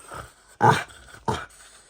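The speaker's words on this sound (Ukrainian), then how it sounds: "Серйозний собака, так." A dog growls and whimpers in short bursts, with three close vocal outbursts separated by brief pauses, the middle one loudest.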